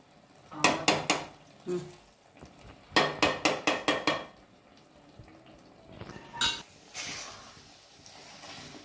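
A spoon scrapes and clatters against a pan while ghee is stirred into sheera, made with maize; fast bursts of clinking strokes come in two clusters, then softer scraping, close and fairly quiet with no talk.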